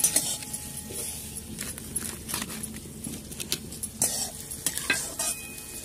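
Onions frying in a pan over a clay village stove, a soft continuous sizzle broken by repeated scraping stirs and light clinks of a utensil against the pan, close and fairly quiet, no talking.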